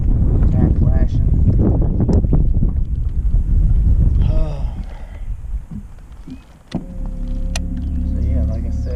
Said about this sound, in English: We got the wind blowing hard, windy